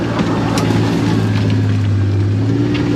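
An off-road vehicle trail riding through wooded Southern Missouri land, its engine droning steadily and close at a low hum, with light rattles and bumps over the trail.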